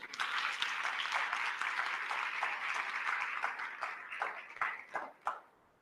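Audience at a panel discussion on migration applauds, a steady crowd clapping that holds for several seconds and then thins into a few scattered, separate claps before fading out.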